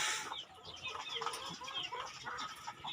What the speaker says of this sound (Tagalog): Tingnan nyo naman yung ating mga kulungan nating mga manok.